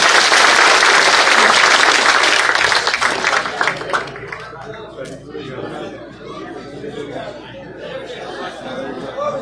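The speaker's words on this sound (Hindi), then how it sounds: "जोरदार तालियों के साथ एक बार इनका हौसला बढ़ाएं।" Loud applause from a crowd at an outdoor village political rally in India, dense clapping and chatter that fade after a few seconds into background crowd murmur and voices.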